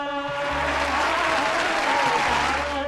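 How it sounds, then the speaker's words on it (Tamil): An audience at a Women's Day working women achiever awards ceremony applauds steadily while music with sustained tones plays over the crowd, the clapping forming a continuous wash throughout. "கைத்தட்டி உற்சாகப்படுத்துங்கள்"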